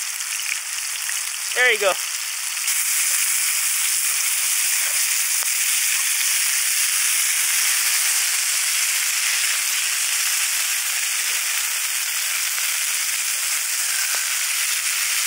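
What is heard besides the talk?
butter sizzling in a pan at a winter campsite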